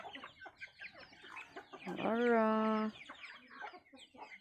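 Native chickens on a farm: scattered soft clucks and farmyard noise around a single loud, drawn-out hen squawk in the middle, with someone speaking briefly nearby.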